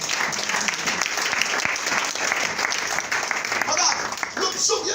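Church congregation clapping and cheering for Jesus during a sermon, a steady wash of applause with voices mixed in throughout.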